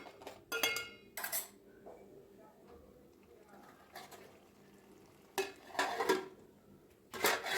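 Fried eggs go into a simmering egg curry in a pan, giving short bursts of stirring and utensil clatter against the pan over a low sizzle, with a voice speaking in between.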